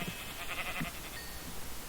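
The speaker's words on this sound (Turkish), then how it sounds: "Yaşasın bok rengi koyun." A sheep in the Minecraft video game bleats in short, wavering calls over a steady background hum, close and moderately loud, with no talking.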